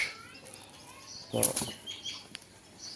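A female pigeon's wings flap in a quick burst, close and sharp, over a quiet background.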